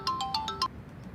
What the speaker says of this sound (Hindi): फिर आ गया इसका फोन